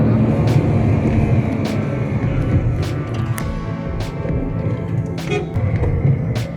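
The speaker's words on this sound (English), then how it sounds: "So if I rev it up, what happens? Okay, let me rev it up." The engine of a Renault Triber seven-seater family car revs with a deep, steady rumble heard from close by, and a few faint thumps cut through it.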